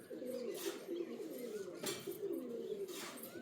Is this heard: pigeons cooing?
yes